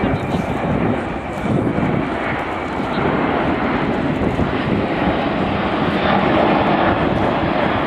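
C-17 military transport aircraft flying at the RIAT air show, a loud broad jet roar holding steady across the whole stretch, distant and rumbling beneath a voice talking over it.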